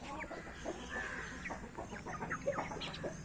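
A flock of farmyard hens, roosters and chicks clucks and chatters continuously in quick overlapping calls, some near and some farther off, over a steady outdoor hum without speech.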